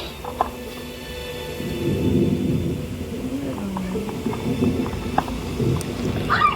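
Rain falling during a thunderstorm, a steady hiss with low rumbling swells of thunder, fairly close.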